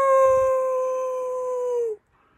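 A voice imitates a werewolf alien's howl from the Ben 10 cartoon: one long, loud, steady sustained howl close to the microphone that holds for about two seconds and then stops abruptly.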